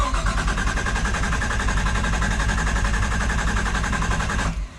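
An RB25DET engine in a drift car cranking on its starter to prime oil, a loud steady rhythmic churning that runs for about four and a half seconds, then stops abruptly.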